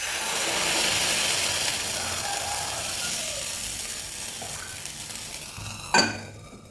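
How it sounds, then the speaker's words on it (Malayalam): Bun dosa batter cooks in an oiled pan with a soft, steady sizzle and faint scraping, then a single sharp clatter of utensil against pan near the end. "ഇതുപോലെ ബാക്കിയുള്ളത് ചുട്ടെടുക്കാം അടുത്ത ദോശയും നമുക്ക് തിരിച്ചിട്ട് കൊടുക്കാം"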